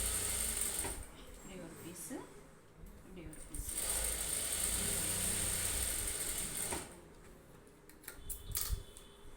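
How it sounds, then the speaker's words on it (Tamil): A sewing machine runs in bursts while stitching the band piece of an embroidered blouse, its mechanical whirring rising and stopping between pauses, close by with faint background sounds. "இப்போ வந்து இந்த பட்டி பீஸை தைச்சிருவோம்"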